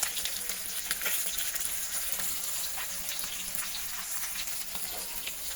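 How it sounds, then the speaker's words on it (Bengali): Fish frying in a pan in a home kitchen, a steady faint crackling sizzle with small pops running throughout, no talk. "মাছগুলো আমি ভেজে নিই তাড়াতাড়ি"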